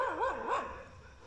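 A dog gives a couple of quick, whining barks close by at night in a village, the short yelps rising and falling before fading into quiet background.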